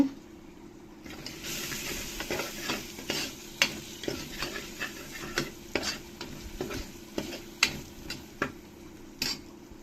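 Onion, tomato and spice powders sautéing in a pan for vegetable biryani: a constant sizzle under rhythmic, repeated scrapes and taps of a spoon against the pan for about ten seconds, without talk.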